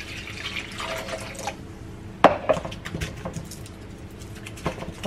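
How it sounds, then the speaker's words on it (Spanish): Water poured over tomatoes to wash them, with light splashing and patter, a sharper splash near the middle, then scattered drips and small knocks, close by with no voices. "Y aquí voy a ponerles agua porque los voy a lavar."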